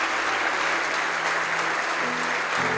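A church congregation claps together during a Christian sermon, dense sustained applause filling the room, with faint tonal sounds entering near the end.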